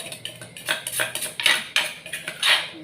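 Pounded chili, mackerel, shallots and garlic stir-fried in a pan for Thai pla ra lon, with a series of close scraping clinks of a utensil against metal and soft sizzle, no talk.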